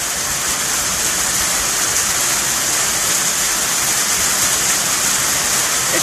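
Steady rain falls in a dense, even hiss, loud and continuous, with no pauses and no voices.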